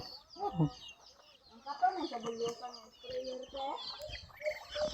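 Chickens cluck repeatedly close by, with voices talking over and between the calls.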